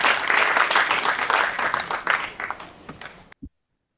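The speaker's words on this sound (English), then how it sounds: "A round of applause for Boyd." Applause from an audience at an Arabic literature prize celebration at SOAS in London, dense and steady, tapering off in a few scattered claps before stopping abruptly.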